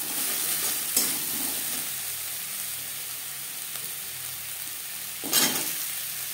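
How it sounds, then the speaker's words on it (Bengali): Spices fry in a pan on low flame, stirred with a spoon, for a Bengali radish and potato fish curry: a steady close sizzle with a couple of sharp scraping clinks of the spoon against the pan. "কাঁচা গন্ধ যাওয়া পর্যন্ত নাড়াচাড়া করে নেব।"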